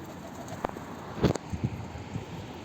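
A pigeon coos softly among a rooftop flock of racing pigeons, a few low throaty calls spaced out over a couple of seconds, faint, with a short flutter of wings and light wind.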